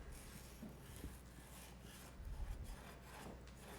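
A knife saws through frozen char fish in steady, rasping back-and-forth strokes, quiet and close, with a slightly heavier pass partway through and no talking.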